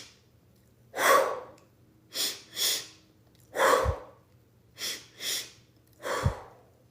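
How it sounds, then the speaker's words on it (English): Breathwork breathing done up close: three rounds of two quick, sharp nose inhales followed by an audible, breathy exhale through the mouth, evenly spaced against a quiet room. "2 quick, deep inhales through your nose."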